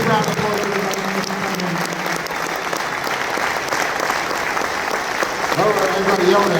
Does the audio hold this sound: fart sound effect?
no